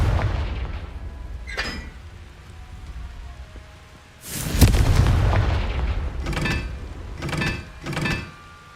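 A Confringo blasting spell goes off in Hogwarts Legacy as one loud burst, and several shorter crackling blasts follow at a distance.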